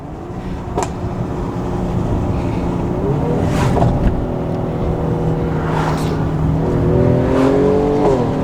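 Mercedes-AMG car engine revving with turbo whooshes, loud and close, rising and falling in pitch over several throttle blips and shifts, with no talking.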